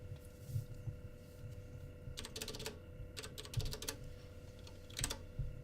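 Keys being struck on a computer keyboard, including the spacebar, while operating graphics software: several clusters of sharp plastic clicks and thumps, close and moderately loud, over a steady electrical hum, with no talking.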